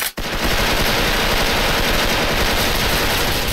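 An M4 II rifle fires in the shooter game Special Force as a continuous, rapid burst of loud, close automatic gunfire that runs unbroken throughout, no talk.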